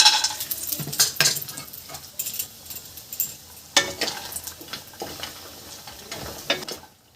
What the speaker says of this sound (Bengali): তেল দিয়ে দিচ্ছি আমি সর্ষের তেলেই ভাজছি